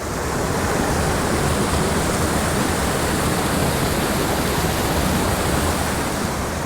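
A waterfall in a wilderness forest roars as a dense, constant rush of falling water, loud and steady with no voices.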